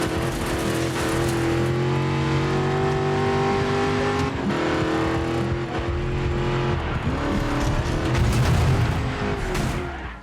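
Racing cars in the video game Dirt 5 rev and roar continuously, engines rising and falling in pitch through gear changes, loud and close with skidding tyres and a busy mix of motors throughout.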